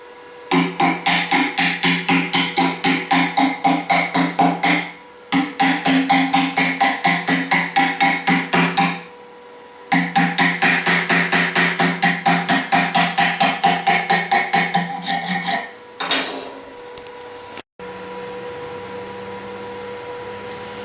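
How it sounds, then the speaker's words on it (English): A cheap stick welder laying a bead, heard as a steady rapid crackling buzz in long runs broken by short pauses, loud and close with no talk, ending in a quieter hum. "one of the big problems a lot of people have with stick welding is they hold the rod too far away"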